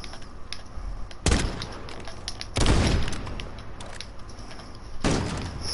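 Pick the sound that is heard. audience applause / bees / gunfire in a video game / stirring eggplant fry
gunfire in a video game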